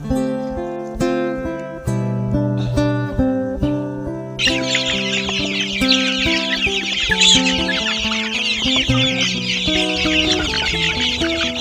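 Chicks cluck and peep busily while being fed grated coconut, with repeated close calls over steady background music.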